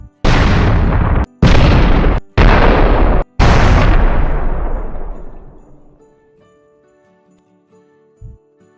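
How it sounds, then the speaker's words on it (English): Four loud explosion sound effects in quick succession, each a heavy booming burst, the last one decaying into a long rumbling tail before a faint small thud near the end. "None of these explosion sounds are any good."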